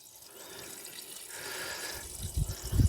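Water drains out of an old tractor, splashing and trickling steadily onto the ground, growing louder toward the end with heavier gushes and drips close by.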